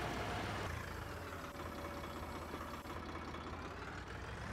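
Swaraj 855 4X4 tractor engine in Farming Simulator 19, running at normal speed: a steady low diesel drone that holds evenly throughout, close and continuous with no talk over it.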